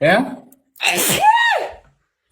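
After a short spoken word, a young woman gives a single sharp, close sneeze that stands alone before fading to quiet.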